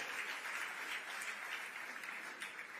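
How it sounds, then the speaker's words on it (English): Steady applause from a gala audience fills the room, many hands clapping continuously at moderate distance with no voices over it. "let's give her a round of applause"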